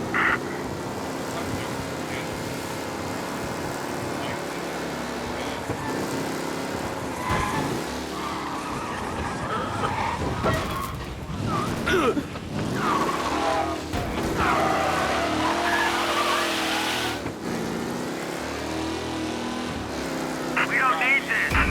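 A race car drives and skids in the Mafia remake video game, engine roaring and shifting with squealing tires and bursts of sliding, mixed with game sounds and voices talking over the action.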